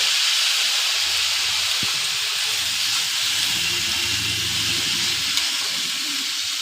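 Washed greens sizzling in a pan with hilsa fish, a steady broad frying hiss with a low bubbling layer, close and continuous throughout, no talk.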